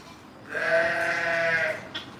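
Sheep bleating from newborn lambs and their ewe, one sustained, clear, close bleat about a second long with a short faint call just after.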